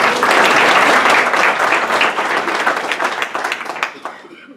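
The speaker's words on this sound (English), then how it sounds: "Give her a round of applause." An audience gives a speaker a round of applause, a full burst of clapping that peaks immediately and then gradually tapers off over a few seconds.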